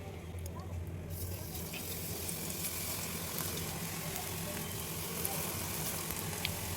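Bajji batter frying in hot oil in a home kitchen gives a steady, dense sizzle and crackle that runs unbroken through the whole stretch at a moderate, close level.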